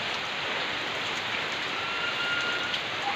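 Steady rain pours down outdoors, a dense, even hiss of drops hitting surfaces, moderately loud and unbroken, with no voices.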